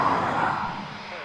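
Eurofighter Typhoon jets at RAF Coningsby give a loud, broad, rushing roar that fades slightly as it continues. A voice talks over the noise.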